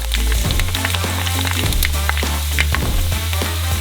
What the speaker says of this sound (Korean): 뻥 튀기기 시작하며 팝콘처럼 돼요.